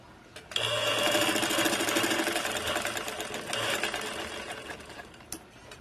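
A sewing machine stitches a V-neck collar in one continuous, close, rapid run of several seconds, starting and stopping abruptly.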